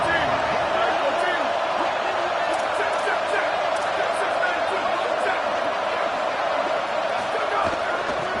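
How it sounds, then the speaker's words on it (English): A large college football stadium crowd roars continuously, a dense, sustained wall of cheering and noise that stays loud and even throughout with no clear single voice. "This crowd is trying to inspire this defense to make a big red zone stop."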